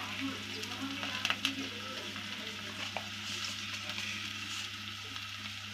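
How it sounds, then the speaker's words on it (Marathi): Curry leaves hit hot oil with onion in a kadai for Malvani-style misal, producing a steady close sizzle and frying crackle with a few sharp pops, fairly quiet with no talk. "तेलामध्ये. कढीपत्ता टाकूया."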